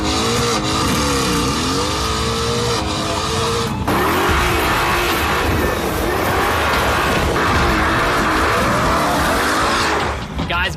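A Mercedes-AMG GT S launches hard with traction control off, engine roaring and revving loudly as the tires squeal and skid nearby, with voices partly buried beneath.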